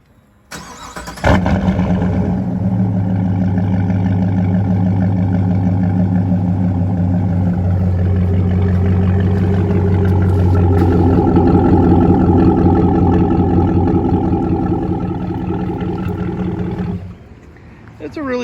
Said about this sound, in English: So this is what a cold start sounds like.